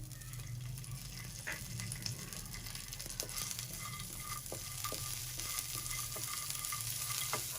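Fox nuts and raisins frying in hot ghee for suji halwa, a steady crackling sizzle stirred throughout, with occasional light taps and scrapes of a spoon.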